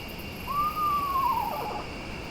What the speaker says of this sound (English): Always surprised how small a screech owl really is.